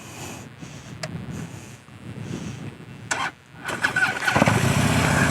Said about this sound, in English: So let's go ahead and get the bike started.